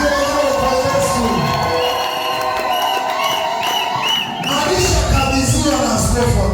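Church congregation at a service welcoming a bishop on New Year's Day, voices rising in a dense, loud mass of ululation and cheering that swells, dips briefly, then surges again.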